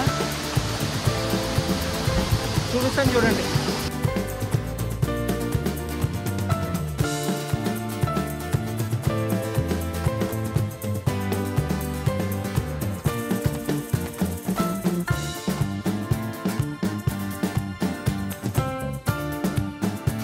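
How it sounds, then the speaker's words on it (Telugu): Katika waterfall near Araku, about 450 feet high, roars as a loud, steady broadband wash of falling water that fills the scene throughout, with a brief voice heard early on. "ఫ్రెండ్స్ చూసారు కదా, కటిక వాటర్ ఫాల్స్ అయితే ఇవే"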